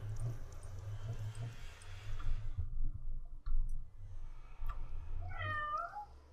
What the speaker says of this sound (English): the cat in the background there